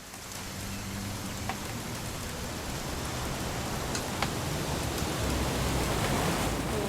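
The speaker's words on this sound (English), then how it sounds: "It's gonna rain the whole weekend, isn't it?" Steady rain falls in the video game What Remains of Edith Finch, a dense, even hiss of droplets filling the whole scene with no voices, a few faint taps standing out briefly.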